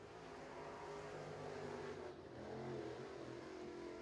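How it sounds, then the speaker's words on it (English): A crate late model race car engine drones steadily at a distance, the throttle easing and swelling as it runs alone on the track at Crossville Speedway, Tennessee. "Listen to the throttle control as he's the only race car on the track."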